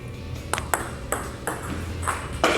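A table tennis pendulum serve gives a series of sharp ball clicks on paddle and table, five or six quick taps against a faint room background.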